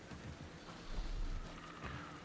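Rain falls in the video game Alan Wake 2, a steady, moderately quiet wash of patter with low rumbling swells, heard alone without speech.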